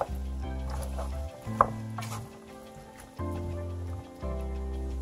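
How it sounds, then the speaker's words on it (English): A spoon stirs turkey tomato stew in a pot for a Ghanaian recipe, giving a few soft scraping strokes over a steady low hum, with one sharp clink near the middle. "I'm just going to give it a little stir for the seasoning to incorporate nicely with the rest of the turkey"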